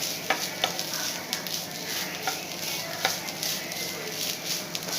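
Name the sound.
stirring grated coconut frying in a pan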